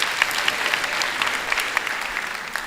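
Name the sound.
audience applause for graduate Mr. Mamabulo at graduation ceremony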